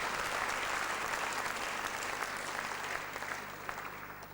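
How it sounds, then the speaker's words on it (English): Audience applause fills a room at an evening awards ceremony honouring speakers, a dense, steady wash of many hands clapping that fades slightly toward the end, with no talking over it. "Can we give a round of applause for all those speakers?"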